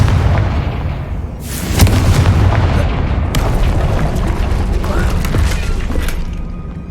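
A Confringo blasting spell explodes in the Hogwarts Legacy video game during a troll fight, a loud booming blast with crackling debris and a second heavy burst, over a constant deep rumble of battle.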